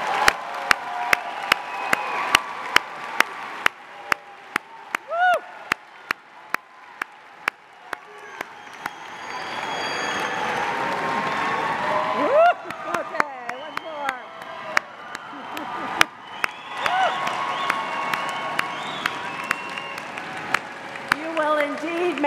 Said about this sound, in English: Graduating fall 2021 BSN students. Let's give them a round of applause.